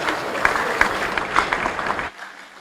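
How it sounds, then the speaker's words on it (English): Audience applause at a university convocation lecture greeting the Pro-Chancellor, a sustained burst of crowd clapping with a few sharp individual claps that cuts off abruptly near the end. "a round of applause for our Pro-Chancellor"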